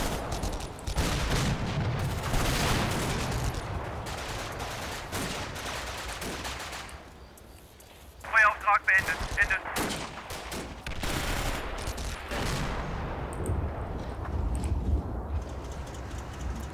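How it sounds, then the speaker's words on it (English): Tanks and infantry guns firing in the WWII Normandy wargame Combat Mission: Battle for Normandy, a dense fusillade of rifle and machine-gun bursts with heavier booms, some shots close and sharp, others distant. "Now my tanks are opening up"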